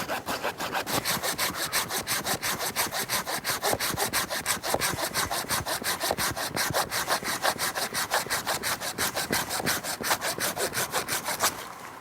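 Steady back-and-forth hand sawing an undercut beneath a large tree branch, fast even strokes repeating throughout, close and loud, no voices.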